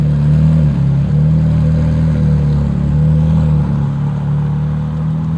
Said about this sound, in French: on entend le moteur qui tourne de plus en plus vite jusqu'à ce qu'il démarre